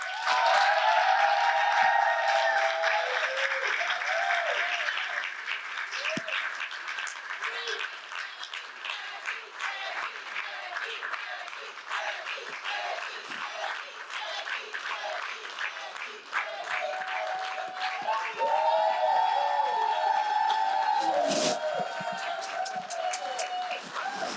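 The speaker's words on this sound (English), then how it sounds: "Let's give a round of applause for Becky Pringle." An audience at a Teacher Appreciation Week national town hall applauds labor union leader Becky Pringle, sustained dense clapping with some cheering that stays loud throughout, while a voice speaks over it.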